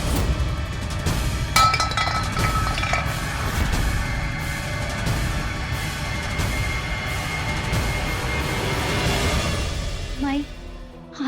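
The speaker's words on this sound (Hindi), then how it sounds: "आज ये पतीला गिर गया" A metallic clang rings out as a metal cooking pot hits the floor, its bright resonant tones lingering over a busy room with background noise.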